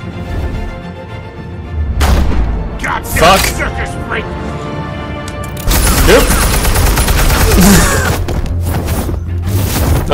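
Gunfire in Batman: The Telltale Series, loud cracks and booming shots in irregular bursts with a heavy barrage in the second half, close and intense over game dialogue and voices.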